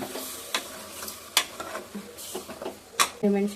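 Onion mixture being stirred in a pan for egg chicken curry, with a soft sizzle under repeated sharp scrapes and clinks of a spoon against metal, close up, with no voices.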